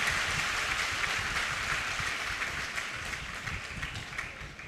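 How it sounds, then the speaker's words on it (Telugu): A large church congregation claps in praise during a prayer service, a dense steady wash of many hands at moderate loudness, slowly easing off toward the end. "గట్టిగా చప్పట్లు కొట్టి మనం ప్రభువుని స్తుతిద్దాం."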